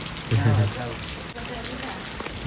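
Light rain falls steadily in a village in Botad, Gujarat, a soft even patter with a brief louder gust near the start, while a person talks faintly underneath.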